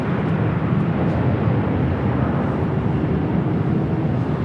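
Jet airliner rolling down runway 24 left at LAX, a steady broadband roar of engines at a distance, continuous and even throughout with no talking.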